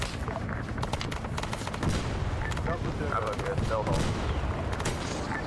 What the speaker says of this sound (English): Heavy artillery hitting on the LC.